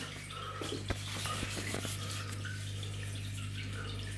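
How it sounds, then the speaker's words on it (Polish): Water flows steadily out of a two-basket aquarium canister filter, a soft continuous splashing trickle over a low electrical hum, with a few faint clicks and knocks early on. "A woda z niego leci."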